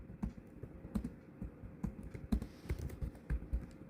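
Steady, rapid keystrokes on a computer keyboard as a terminal command is entered, many crisp close taps in an uneven rhythm, faint overall with no voices.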